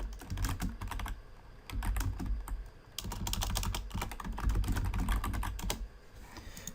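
Rapid computer-keyboard typing close to the microphone during a podcast, bursts of quick clicky keystrokes with short pauses, steady and fairly loud with no talking.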